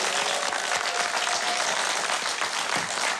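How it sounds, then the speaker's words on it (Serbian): A studio audience on a talk show applauds, a steady, dense wash of clapping filling the whole moment without pause. "Aplauz za vas."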